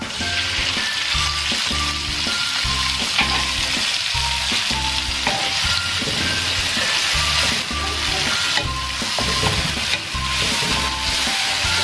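Onions fry in hot oil in a karahi, giving a loud, close, steady sizzle that runs throughout, with a regular beat of stirring scrapes.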